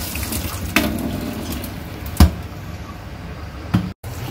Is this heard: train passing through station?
no